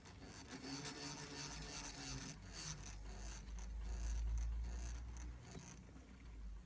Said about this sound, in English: So, stepper motor's going around.